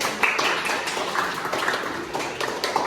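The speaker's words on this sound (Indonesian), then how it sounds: "Boleh kita beri tepuk tangan ya?" Students in a classroom give a short burst of light, scattered clapping, a small group of hands patting unevenly and close by for about three seconds.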